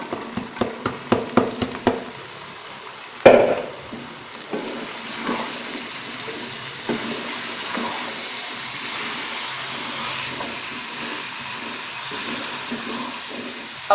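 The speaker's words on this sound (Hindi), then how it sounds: "अब मैं इसमें गोभी डाल रही हूँ।" Cauliflower goes into a hot pan for an aloo gobi curry, a few sharp clinks and a thud as it drops in, followed by a soft, continuous sizzle with light stirring, nearby and without speech.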